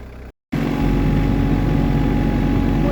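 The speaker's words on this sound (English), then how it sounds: "Got the tractor warming up." A tractor engine idles while warming up on a snowy Alaskan farm in winter, giving a steady, close, low rumble after a brief moment of silence.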